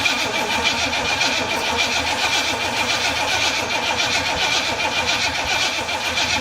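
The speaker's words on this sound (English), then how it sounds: "Alright, we tried to crank it, it wouldn't fire." A 1955 Chevy truck engine cranks continuously without catching, a loud, steady rhythmic starter churn lasting the whole stretch.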